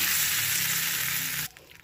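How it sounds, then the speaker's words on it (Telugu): Loud, steady crackling sizzle of tempering spices hitting hot oil for a chutney, continuous for about a second and a half before cutting off abruptly to quiet. "చట్నీలో మనం ఇప్పుడు పోపు వేసేసుకుందాము"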